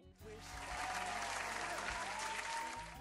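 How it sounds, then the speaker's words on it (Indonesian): Loud, sustained applause in a television studio swells quickly and holds as a thick wash of many clapping hands, with a brief voice at the start before it tapers slightly near the end. "Udah tepuk tangan dong."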